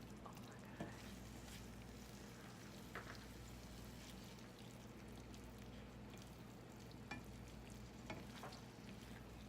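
Butter sizzling and spitting in a very hot frying pan, a steady dense crackle of frying with scattered sharper pops, close and continuous with no talking.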